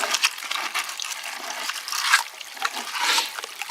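Rocks being raked in a gold pan with water at an old North Carolina gold mine: close wet scraping and trickling splashes with small gritty clatters.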